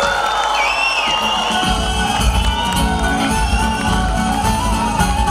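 Loud audience cheering and crowd noise at a 2022 folk concert of songs from Ağrı, a dense continuous roar of voices and whoops with no pause across the whole stretch.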